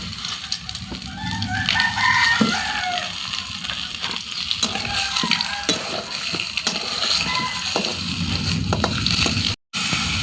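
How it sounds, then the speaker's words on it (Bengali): Pointed gourds lightly frying in white oil in a wok make a steady, close sizzle throughout. A rooster crows and hens cluck in the background. "এর মধ্যে এই পটলগুলোকে আমি হালকা করে ভেজে নেব।"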